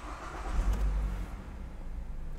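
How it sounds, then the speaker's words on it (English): A 2014 Ford Fusion car engine cranks and catches with a short, loud low rumble, then settles into a steady, quieter idle close by. "So we're inside this car now, and we're just gonna go ahead and start it up."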